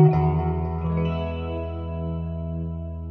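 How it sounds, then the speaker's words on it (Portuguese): Electric guitar through a Boss Katana MkII amp with chorus, reverb and delay: a single strummed chord rings out and sustains with a shimmering, slowly fading tail, alone. "você vai somar um chorus que está no Modulation, também reverb e delay"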